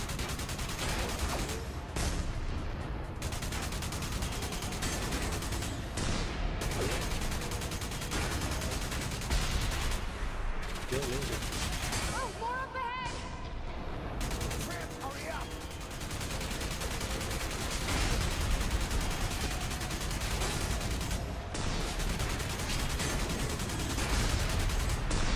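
Gunfire crackles throughout a firefight in the Enslaved video game on PS3, dense and loud over a noisy action background, with a voice speaking now and then.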